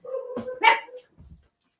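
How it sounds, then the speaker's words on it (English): Dogs barking indoors at close range: a short burst of loud, sharp barks followed by a softer whimpering yip, then quiet. "he's barking in here too"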